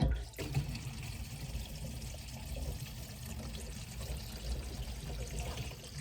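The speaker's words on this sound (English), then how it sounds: "Wow, listen to that drainage. It's flowing good now." Water from a full sink gurgles and rushes steadily down a drain after repair, a close, continuous flowing sound with no talking.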